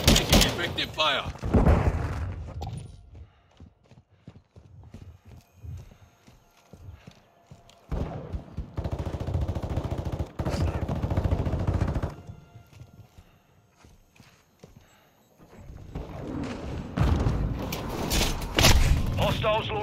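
Gunfire strikes the player in Call of Duty: Modern Warfare II multiplayer, with loud bursts of shots and impacts at the start and end and dense mid-section clatter, while voices talk over the action.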